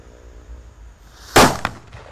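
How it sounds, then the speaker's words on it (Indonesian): A Power Eisner firecracker goes off with a single sharp, loud bang after a quiet lead-in, followed by a smaller crack and a fading rattle. "Ini mercon yang suaranya menggelegar guys."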